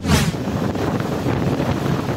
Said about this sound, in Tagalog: Nakaranas kasi roon ng matinding pag-ulan kasabay ng malakas na hangin.